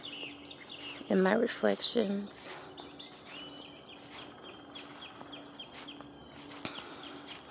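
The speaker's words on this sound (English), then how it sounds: "You hear the birds singing." Early-morning birds sing in a tranquil outdoor spot, with a loud burst of chirps and warbles near the start and scattered fainter tweets afterward, while a person speaks softly beneath them.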